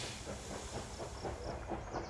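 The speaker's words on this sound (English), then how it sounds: "The completely restored Baldwin locomotives provide enough power to carry more than 400 people on its narrow-gauge track." A restored 1920 Baldwin ten-wheeler steam locomotive runs on narrow-gauge track, with steady chuffing exhaust beats and hiss at a moderate distance and a rhythmic rolling clatter underneath, fairly quiet and without voices.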